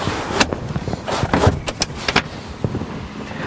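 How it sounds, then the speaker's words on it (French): Rear seats of a Citroën C5 Aircross folded down into a flat floor, with a string of close mechanical clunks, latch clicks and thumps at irregular intervals and no talking. "les sièges se rabattent comme ceci et ça forme un plancher plat dans la continuité avec le coffre"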